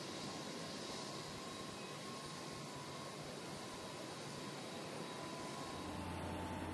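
An airliner's jet engines roar in a steady, broad, loud rush as the plane departs, with no voices on top.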